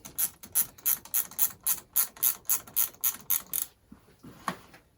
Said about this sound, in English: if you got one of these little amazing ratcheting spanners